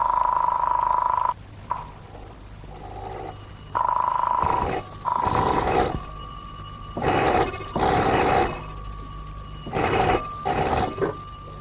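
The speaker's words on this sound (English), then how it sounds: "answer the phone" A telephone bell rings loudly in repeated bursts with short gaps, each ring a sustained electric trill, carrying on for several cycles with no voices over it.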